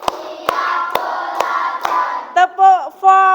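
Several sharp hand claps ring out at a steady beat from a group doing a counting clap game, followed by a few short voiced calls.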